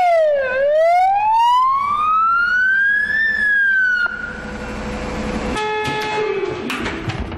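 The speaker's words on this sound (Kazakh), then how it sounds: "Дабыл тәуліктің қай сағатында соғылса да Нұрлан Тілеубаев жылдам жиналып өрт сөндіру бөлімге отырады" A fire engine siren wails loud and close, sweeping up and down for several seconds before switching to harsh blaring horn tones, with no talk.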